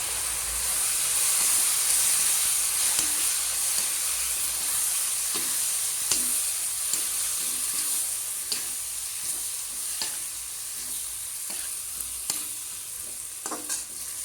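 Tomatoes fry in a pan with a steady hiss and sizzle, broken by regular scraping clicks of stirring spaced roughly a second apart.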